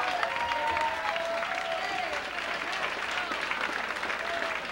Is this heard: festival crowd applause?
yes